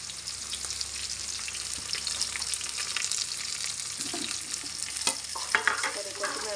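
Sliced onions, mint and curry leaves fry in a pan of oil, giving a continuous bright sizzle. Spoon stirring scrapes and clacks against the pan, with a few sharper knocks near the end.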